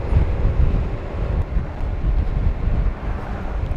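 Steady wind roars and buffets the microphone while riding a Honda Forza scooter, a low, constant rumble with no voices and no pauses.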